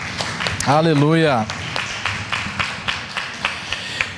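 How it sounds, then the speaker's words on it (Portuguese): A congregation at a youth church service claps in a steady rhythm of sharp, evenly spaced strikes, following a brief sung voice at the start. "Vamos aplaudir?"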